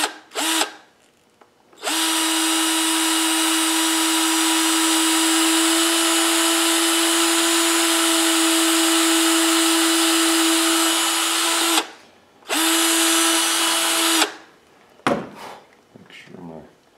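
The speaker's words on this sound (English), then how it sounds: "Now I'm going to drill a hole right through here." A power drill bores a hole through a bear claw for a necklace, its bit slightly larger than a nail. The steady whine runs for about ten seconds, stops briefly, then returns for a short second burst, loud and close.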